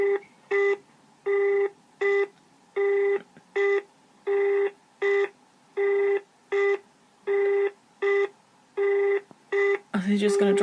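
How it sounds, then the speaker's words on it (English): A telephone line busy tone, an evenly repeating on-off beep with about a dozen short pulses at a steady rhythm, clear and isolated until a brief burst of other noise at the end. "This is a, like, the line is busy tone."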